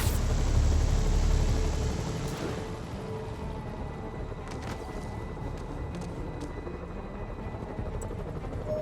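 Helicopter rotors in the video game Marvel's Spider-Man thump and whir steadily overhead, loud at first and then easing to a continuous mechanical drone with scattered sharp clicks.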